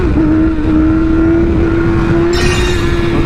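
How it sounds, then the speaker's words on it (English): A motorcycle engine holds a loud, steady high rev during a clutch-up wheelie, with a sudden burst of harsher, brighter engine noise near the end, close and alone without talk. "Now we're going to do a clutch up right here."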